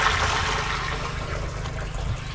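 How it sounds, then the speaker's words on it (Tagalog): Water from a hose pours steadily into a drum for spraying calamansi trees, a loud continuous rushing and splashing fill with a low rumble underneath and no talking. "Sa drum yung kakargahan natin ng tubig."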